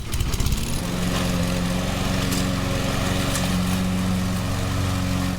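A lawn mower runs steadily nearby, its engine giving a loud, constant droning hum with a rough buzzing edge that holds evenly throughout.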